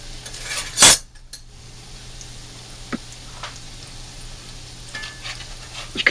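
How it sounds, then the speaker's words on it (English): Potato latkes sizzle softly in a frying pan, punctuated by a sharp clink of a utensil against the pan and a few light scraping taps. "you want to fry each side of your potato latke for about 4 minutes on each side"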